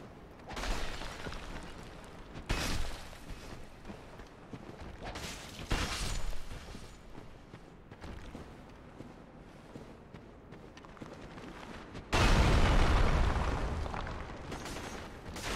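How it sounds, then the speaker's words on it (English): Skeleton heads explode in Dark Souls in a few scattered, booming bursts, each followed by a fading rumble. Quieter stretches separate them, and a heavier, sustained blast comes near the end. "Dodge the exploding head."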